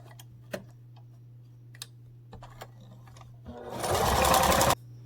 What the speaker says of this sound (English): match the centers together, and just flat stitch that.